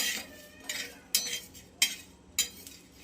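Spoon scraping and clinking in a pan as dry spices are roasted until reddish, with a few sharp metallic taps over a faint steady background, no talking.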